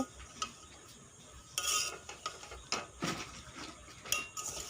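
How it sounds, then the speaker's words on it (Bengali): A pan of pasta being stirred, with scattered scrapes and clinks of a utensil against the pan over a soft background hiss, in close, irregular bursts. "তো এইগুলো দিয়ে আবার 1 থেকে 2 মিনিট নাড়াচাড়া করব।"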